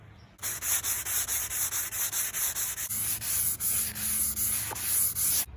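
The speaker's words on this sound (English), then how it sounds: "I will finally use 400 grit sandpaper to sand away all of these pencil marks to pretty up the bow." Rhythmic 400-grit sandpaper strokes rub back and forth on a wooden longbow, about a dozen quick even passes, close and alone.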